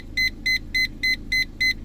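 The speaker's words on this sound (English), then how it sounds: "the alarm's clearly audible even when the speaker's located in the boot" An aftermarket rear parking sensor alarm beeps from a speaker mounted in a car boot: seven short, evenly spaced electronic beeps in quick succession, clear and moderately loud over a low background hum.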